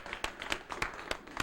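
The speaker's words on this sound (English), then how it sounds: "let's give him another round of applause" Television studio audience claps for a birthday guest, with sharp individual claps standing out over a quieter bed of clapping, fairly faint and distant throughout.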